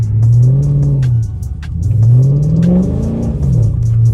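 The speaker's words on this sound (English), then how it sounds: "Y'all can hear every time I tap the gas" A Dodge Charger SRT V8 revving loudly and close up in snowy conditions, its deep engine note rising and falling in two or three swells as the throttle is blipped.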